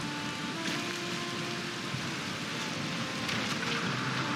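Steady rain falls in Valheim, a dense, even hiss holding constant throughout with no other sounds over it.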